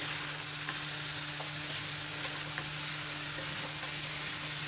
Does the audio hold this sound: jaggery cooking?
yes